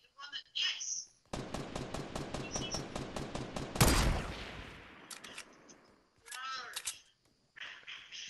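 Rapid automatic gunfire in Fortnite rattles against a wooden wall in a steady burst of about a dozen shots, ending in a louder impact, with game sounds and brief voices before and after.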